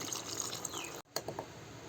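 Water is poured into freshly ground spice paste for a village-style sardine curry, a soft close trickle that briefly cuts out midway before the gentle splashing resumes.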